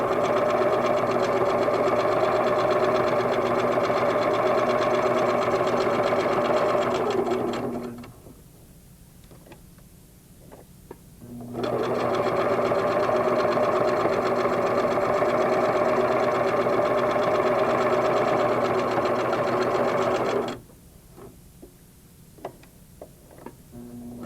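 A Singer sewing machine stitches quilt fabric in two long, steady runs of rapid mechanical whirring, each about eight seconds, with a pause between them filled by light clicks and handling. The sound is close and loud, and no one speaks.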